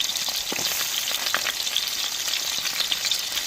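Chopped large onions and green chillies fry in a pan with a dense, continuous crackling sizzle, dotted with faint stirring taps.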